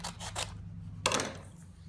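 Scissors snip away the excess paper around a cut-out image in a craft workshop, a few close, quiet rasping cuts with a low steady hum behind them and no voices.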